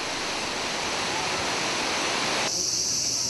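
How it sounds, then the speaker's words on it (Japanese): Roaring Nachi waterfall, a great sacred falls in Japan, pours as a steady dense wash of broadband noise, loud and close throughout with an abrupt brighter hiss shift near the end. "轟音とともに周囲にしぶきを上げる大滝は、日本人の自然に対する畏怖と憧れを象徴してきました。"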